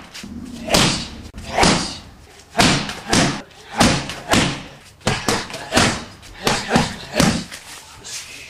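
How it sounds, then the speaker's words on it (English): Muay Thai kicks strike training pads in a rapid series of heavy, close thuds, about a dozen impacts arriving in quick irregular bursts, with voices heard between some strikes. "Hard kick to the head, yeah."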